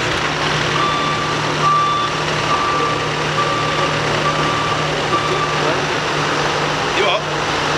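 A forklift truck's reversing alarm beeps repeatedly in a steady rhythm at moderate distance outdoors, over a constant engine and machinery hum.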